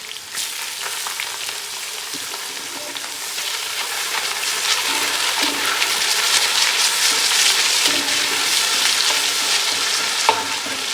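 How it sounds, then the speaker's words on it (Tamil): About 400 grams of sliced onions fry with cinnamon and cloves for biryani, giving a loud, continuous sizzle that swells slightly over time, with occasional soft stirring scrapes. "இந்த ஆனியன் நல்லா ப்ரௌன் கலர் ஆக வரைக்கும் இது நல்லா ஃபுல்லாக வதக்கிக்கும்."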